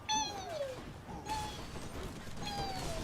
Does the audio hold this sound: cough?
no